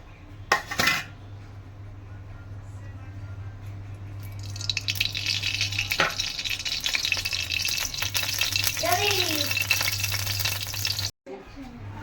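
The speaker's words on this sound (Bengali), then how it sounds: "আমি কড়াইতে সোজাসুজি তেল দিয়ে দেব" Oil goes into a clean wok and heats, with a steady sizzle and faint crackle rising over a low kitchen hum, a few metal clinks, and a voice speaking.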